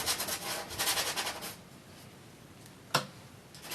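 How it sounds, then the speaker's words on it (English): A brush scrubs oil paint thinly onto canvas for a wooded-edge landscape, giving soft bristly rubbing strokes in quick repeated bursts, then quieter, with one sharper scrape near the end. "So I'm scrubbing in the paint thinly"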